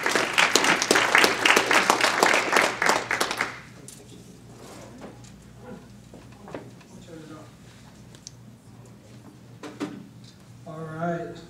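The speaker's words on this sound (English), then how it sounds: "Let's give him a round of applause." Conference audience applause rings out for a speaker, a few seconds of dense, fairly loud clapping that stops abruptly, followed by quieter room noise, shuffling and a voice starting to talk.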